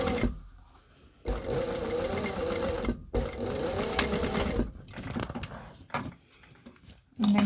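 A sewing machine top stitches a 0.5 cm line along a face covering seam, running in several close bursts with brief pauses between them.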